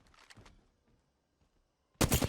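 Automatic gunfire erupts in an Apex Legends match on the Storm Point map, a loud dense burst at the end after a stretch of quieter game sounds.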